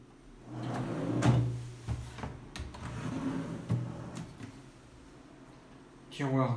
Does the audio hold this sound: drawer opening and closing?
yes